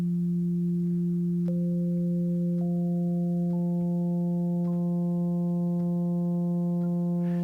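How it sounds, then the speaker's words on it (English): A retunable Hammond-style organ sustains a steady drone while new pitched layers enter one after another, like drawbars being added, building a pure, unbroken chord with no voices. "So this is I would say a kind of retunable Hammond organ."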